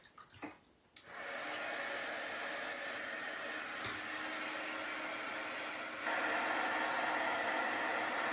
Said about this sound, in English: So now I want to dry it with the dryer